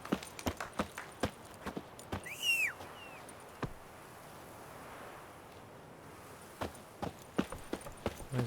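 Horse hooves clip-clop in The Witcher 3, a loose run of sharp taps that pauses for a couple of seconds and then resumes over soft wind, with a short bird-like whistle near the start.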